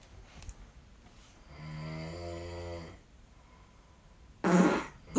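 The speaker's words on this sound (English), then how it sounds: "You were sleeping, snoring. I'm admitting the snoring. There you are. And then There I am. I walked over to you. And see there, you farted." A fart with snoring nearby: a drawn-out, buzzing fart lasting over a second, then quiet, then a short, harsh, noisy burst near the end, all faint against a soft background.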